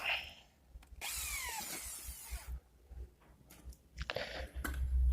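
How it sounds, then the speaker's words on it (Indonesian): A power drill whirs into an aluminium spigot in two or three short bursts, close and fairly quiet, with handling noises in between. "setelah kita tandai, kita bor"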